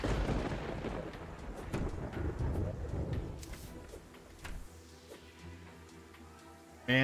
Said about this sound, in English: Man, I sure hope that was lightning I heard.